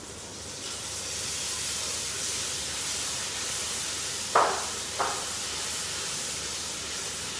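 Masala paste fries in ghee in a pan, giving a continuous loud, close hissing sizzle with two brief sharp spits near the end, and no talk.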